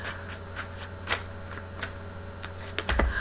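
Tarot cards are shuffled by hand in a steady run of crisp riffling flicks and soft slaps, close and clear, ending in a louder burst as the deck is squared.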